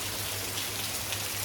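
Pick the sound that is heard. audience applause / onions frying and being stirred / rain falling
rain falling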